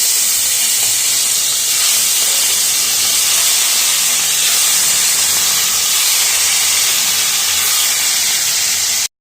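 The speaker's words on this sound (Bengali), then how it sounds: "এবার মাছগুলো ভেজে নেব" Rohu fish pieces frying in hot oil, a steady loud sizzling hiss that holds evenly throughout without any pause.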